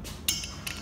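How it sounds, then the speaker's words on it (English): An 18 mm ratchet wrench with socket working loose a bursting disc on an Ansul CV-98 Inergen valve, a quick metallic click followed by a second fainter click, close and brief. "you'll want to use your 18 millimeter ratchet wrench with your 18 millimeter socket, and we're going to remove the old one"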